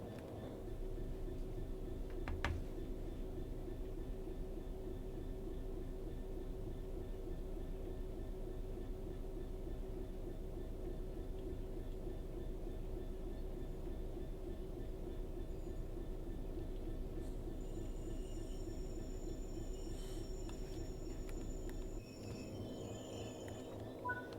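A simulated Class 66 diesel freight locomotive hauls the Mountsorrel empties on the Midland Main Line in Train Sim World 4, a steady, droning engine throb and rolling rumble for over twenty seconds before the sound eases.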